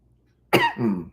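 A single harsh cough bursts out after a moment of silence, close and fairly loud, with a rough, throaty second push trailing off.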